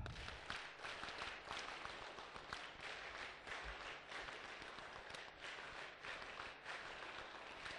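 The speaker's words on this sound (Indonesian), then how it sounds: "Tepuk Pramuka" A large gathering of madrasah scouts performs the Pramuka group clap, a faint, distant mass of clapping that carries on evenly for several seconds.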